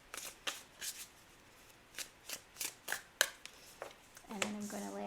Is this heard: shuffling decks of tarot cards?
yes